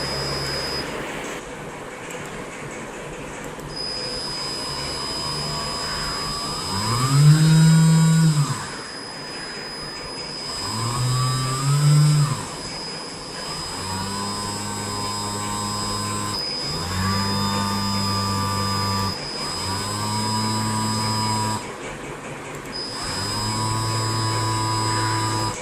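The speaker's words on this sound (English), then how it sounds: "We can see the DC motor in action here, which we have referred as engine." A DC motor driving a solar-powered boat gives a steady electric whine with a constant high tone, rising and falling in pitch as it speeds up and slows down in several bursts.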